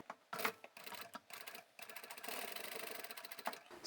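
A sewing machine back stitching the pockets of a large bag, quiet, close rhythmic clatter in short bursts that stop and restart, then a longer steady run of stitching.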